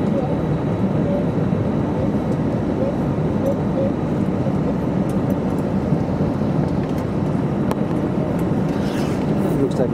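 Inside the cabin of a Finnair Airbus A320 before takeoff, a loud, steady engine and air-conditioning roar fills the space evenly, with a faint chime and a few light clicks over it.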